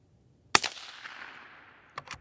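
A Volquartsen Summit .17 Mach 2 rifle fires one sharp, close, loud shot with a short fading echo, followed by a couple of fainter clicks or pops near the end.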